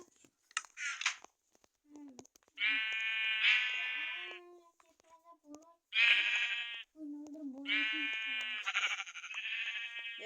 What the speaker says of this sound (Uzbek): Bu yerda namcha qo'ylar bor.